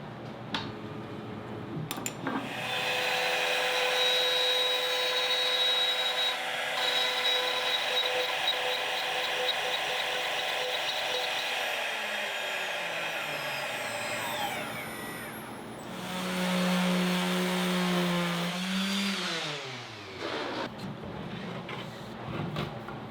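A power tool surfaces the back of a warped bloodwood hardwood board with a loud, sustained whine and grinding drone that swells and dips in pitch for about twenty seconds, close up, with no talking.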